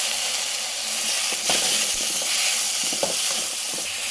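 Tomato pieces sizzle and hiss in hot oil for a South Indian karamani kulambu, with occasional scraping stirs and soft clicks of a spoon against the pan.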